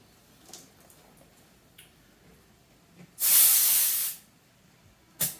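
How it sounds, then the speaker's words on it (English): A sustained burst of hissing air lasts about a second as a tractor tire, an R14 with 44 psi max, is inflated, with a few faint clicks before it and a sharp short hiss after, in a quiet setting. "So we'll get this thing aired back up here."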